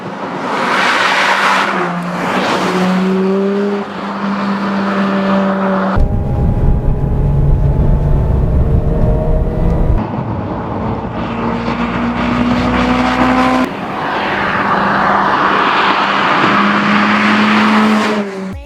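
A 2011 Mazda RX-8 Spirit R with its rotary engine, driven in a Need for Speed game, revving loud and close with rising and falling engine tones across several gear changes, no talk.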